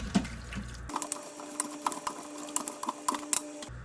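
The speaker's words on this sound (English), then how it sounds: "We are going to add a little bit of water to this just to start allowing those flavors to mix in" Water pours into a pot of pork stew, a light splashing trickle that starts abruptly and runs in a quiet stream for a few seconds before stopping.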